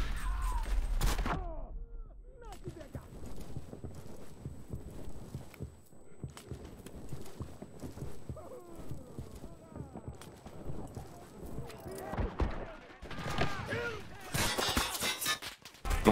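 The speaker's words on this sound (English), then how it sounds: "Oh my god, so many explosions." Explosions and gunfire in the WWII shooter game Enlisted: dense, rapid bursts of sharp cracks and thuds, some near and loud, others softer and scattered, with a few quieter gaps between volleys.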